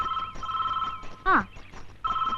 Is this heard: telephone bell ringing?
yes